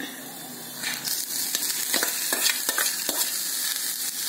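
Cooked horse gram tipped into a hot pan with curry leaves and grated coconut for sundal, giving a sustained sizzle with scraping stirs and a few sharper scrapes.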